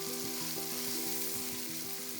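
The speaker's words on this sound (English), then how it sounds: "Cook the onions for 4 to 5 minutes until it changes its color." Onions fry in a pan with a steady, dense sizzle heard up close and no talk, while a faint hum pulses beneath it.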